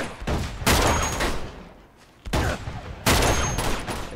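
Sniper rifle fire in Uncharted 2: loud, sharp gunshots in clustered bursts with a brief lull between them, ringing out close and alone.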